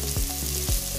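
A hot pan sizzles steadily while cooking pasta sauce, a close, continuous frying hiss with a couple of soft stirring bumps, no talking.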